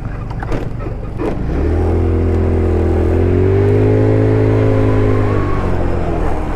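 An Ice Bear Hawkeye 150cc scooter is ridden, its small engine humming loud and close as it accelerates and revs steadily higher, then holds a droning cruise with a slight dip in pitch.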